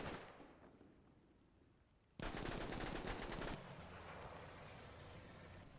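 Bursts of machine gun fire from the Combat Mission World War II game, a sudden dense rattling volley of rapid shots that stops after about a second and a half, then steady rumbling battle noise carries on.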